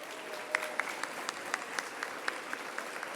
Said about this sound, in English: Can we give all of our sponsors a round of applause?